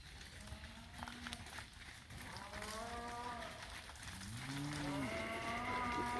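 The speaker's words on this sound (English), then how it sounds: "That's a black cow. She's half South Pole." Cattle moo repeatedly during a summer cow-calf drive to a home farm, with black cows and South Pole-cross calves; several drawn-out calls rise and overlap over a steady outdoor rumble, growing louder toward the end.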